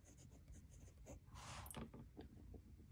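A Jinhao 80 fountain pen with a firm fine nib writes on paper, giving soft scratchy strokes in short bursts, very faint and close over a low background hum.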